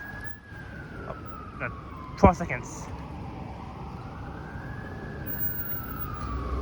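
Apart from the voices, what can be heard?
emergency vehicle sirens in downtown Toronto street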